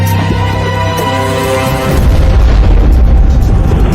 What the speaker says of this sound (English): We just had a huge explosion.